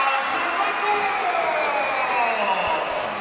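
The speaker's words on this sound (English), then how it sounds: "And the crowd of JRU erupts after that shot from Salvador." A Jose Rizal University crowd at a Filoil EcoOil Preseason Cup finals basketball game roars and cheers right after a made layup, a loud, sustained wash of shouting and whooping voices from the stands.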